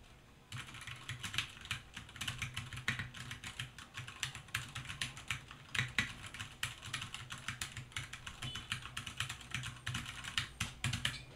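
Steady, fairly loud typing on an Anpro computer keyboard, a dense run of close, crisp key clacks in an uneven rhythm that continues for several seconds with no voices.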